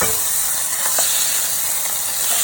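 Anchovy paste and olive oil sizzle in a pan at the start of a pasta sauce, a steady close-up hiss and crackle with no one speaking.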